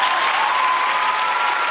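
An audience at a live country music show claps in a dense, loud, steady burst of applause that fills the short moment.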